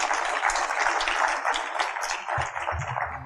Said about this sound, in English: So give ourselves a round of applause